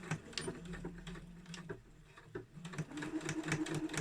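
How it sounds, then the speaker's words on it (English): A sewing machine runs steadily while stitching a back tack at the top of a drawstring bag seam, its motor hum and rapid needle ticking continuous and close, briefly easing mid-run before speeding up again. "stitch all the way to the end, and then complete a back tack when you get to the very top"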